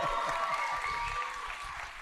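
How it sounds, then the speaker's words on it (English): A live event audience claps together in a brief burst of applause, dense and steady at first and then tapering slightly over about two seconds. "One round of applause for Jose"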